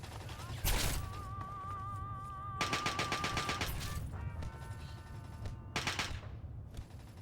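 Gunfire in the modded video game Fallout 3: several loud, sharp bursts of rapid shots spaced a second or two apart, with quieter game sounds and some voice between them.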